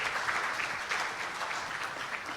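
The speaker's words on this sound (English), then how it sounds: "We can give a big applause." A conference audience applauds steadily in Accra, Ghana, many hands clapping in a dense, even patter throughout.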